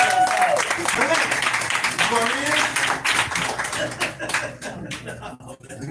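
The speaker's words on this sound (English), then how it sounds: "Clap it up for yourself." An audience at a live bookstore event claps along while voices talk and call out over it, the clapping loose and fading toward the end.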